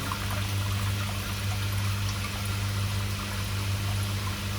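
Water drains out of a Nexus 320 pond filter during cleaning, a steady close trickling and pouring rush over a constant low pump hum, with no talk.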